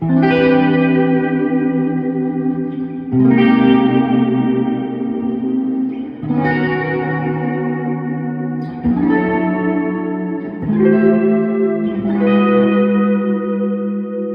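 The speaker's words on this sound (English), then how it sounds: "So let's listen to this for a while, because these reverb amounts of reverb are to create, you know, certain effects" Heavily reverberated electric guitar through a Carl Martin Headroom Mini pedal: six strummed chords, each ringing out for a couple of seconds into a lush, smeared tail, loud and steady with no talking.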